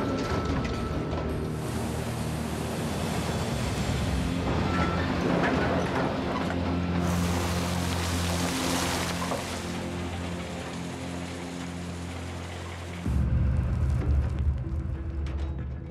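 A gold mining wash plant runs with its blade switched on, giving a loud, continuous clanking, rattling mechanical drone with a steady low hum that shifts and deepens near the end.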